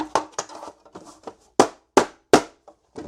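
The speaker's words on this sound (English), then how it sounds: "My hammer." Several sharp hammer blows land one after another, loud and close, with some softer knocks and taps between them.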